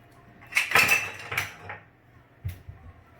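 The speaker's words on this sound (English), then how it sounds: "So I will grab a bowl and we will cut those bananas up." Bananas are cut up into a bowl in a home kitchen, with a few close knife taps and clinks against the bowl in short separate bursts, then a pause and one more tap.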